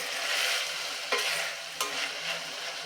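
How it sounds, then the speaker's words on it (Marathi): Chopped tomato and mixed vegetables sauté in a pan on medium heat for masala khichdi, giving a steady close sizzle broken by two sharp stirring scrapes. "अजून मिनिटभर हे परतून घेऊया मीडियम वरती"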